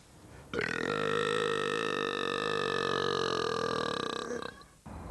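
A champion burper lets out one long, loud, sustained belch lasting about four seconds, close and harsh, ending abruptly.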